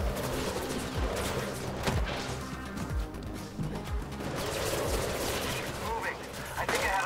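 Gunfire in Mirror's Edge Catalyst cracks in a rapid run of sharp shots, about a dozen spaced irregularly over a busy game background, moderately loud.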